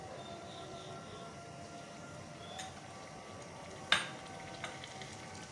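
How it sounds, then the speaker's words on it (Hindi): Mutton masala curry sizzles quietly in a pan during bhunai, a faint continuous frying hiss with one sharp clatter near the end. "भुनाई कर लें अच्छी तरह से।"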